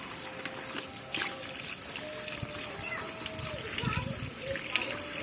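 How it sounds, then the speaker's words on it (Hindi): Vegetables are washed by hand in a basin of water in a Pakistani village home, giving soft repeated splashes and trickles throughout, with people talking over the water sounds. "धो ली सारी सब्जी"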